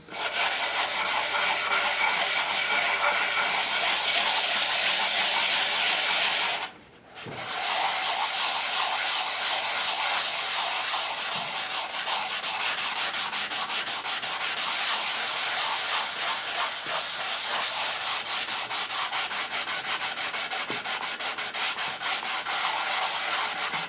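Steady, close hand sanding with 120 grit abrasive on an English walnut stock for an HW80 air rifle, a continuous dry rubbing hiss with a brief pause about a third of the way through.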